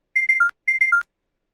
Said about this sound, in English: so we'll use this chime beep clean tone